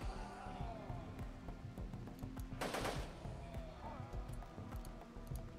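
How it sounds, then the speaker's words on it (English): Colonists shooting in the video game RimWorld, rapid bursts of gunfire crackling as a continuous rattling series over a low droning game soundtrack. "Fuimo, why don't you go ahead and come out there and start taking shots?"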